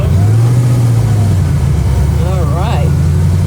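A six-wheeled Ferrari Testarossa pulls away with a loud, steady engine drone that holds throughout, under a voice speaking over it.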